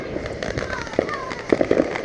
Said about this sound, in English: We got fireworks all over the place.